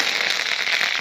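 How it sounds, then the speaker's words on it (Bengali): Mustard seeds and dried chillies splutter in hot oil in a wok: a dense, continuous crackle of rapid pops, close and fairly loud. "কড়াইতে তেল গরম হয়ে গেছে, সরষে লঙ্কা দিয়ে দেবো"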